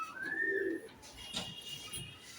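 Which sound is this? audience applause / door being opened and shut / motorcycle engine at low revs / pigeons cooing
pigeons cooing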